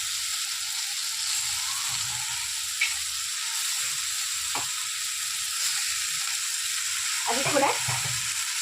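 Continuous close sizzling of chicken frying in a pan with onions and tomatoes for Chettinad chicken gravy, punctuated by occasional scraping stirs and a brief clatter toward the end.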